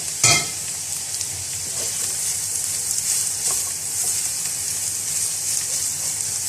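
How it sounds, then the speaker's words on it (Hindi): Onions frying in hot oil left over from cooking taro root, giving a steady bright sizzle with a sharp burst as they go into the pan, then continuous crackling, close and fairly loud. "2 प्याज मैंने काटे थे और इनको हम फ्राई करेंगे।"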